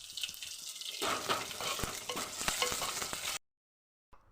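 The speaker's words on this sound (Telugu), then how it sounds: "ఇదిగోండి పప్పుసారి అయితే తాలింపు వేస్తున్నాను" Dal tempering sizzles and crackles loudly in hot oil, a bright continuous hiss with sharp pops after a quiet start, then cutting to silence near the end.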